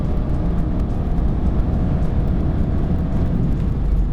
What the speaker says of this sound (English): I want to show you the performance of this car. Let's go!